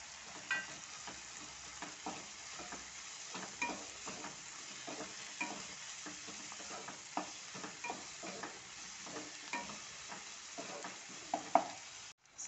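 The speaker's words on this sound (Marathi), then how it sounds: "आता 2 ते 3 मिनटं स्लो गॅसवर मेथीला शिजू द्यायचं आहे" Chopped fenugreek leaves cook in a pan over low heat for green egg bhurji, giving a soft steady sizzle broken by repeated scraping stirs of a spoon against the pan, with no talking.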